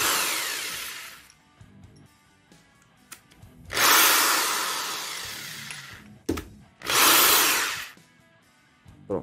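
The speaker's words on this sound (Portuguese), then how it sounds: "Broquita, vamos encaixar aqui." A cordless screwdriver-drill, a Vonder PFV 074 or Bosch GSR 7-14, fitted with a small drill bit, whirs loudly in two long bursts with short spins and clicks between, close by and with no talking.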